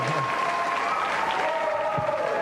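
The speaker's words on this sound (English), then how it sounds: "Please give another round of applause to Jason and Lisa Porzol." Studio audience applause on a television video game show for contestants Jason and Lisa, a continuous wash of clapping under steady electronic music tones.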